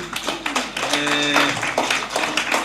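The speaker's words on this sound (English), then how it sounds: "Tujipigie makofi." Scattered hand clapping rises from an audience at a Kenyan academic qualifications event, uneven and moderately close, while a voice speaks over it and a brief tonal sound rings in the middle.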